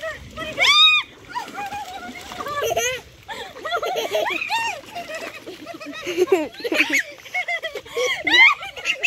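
Splashes and sloshing water near a boat on a pond, mixed with excited voices and laughter throughout.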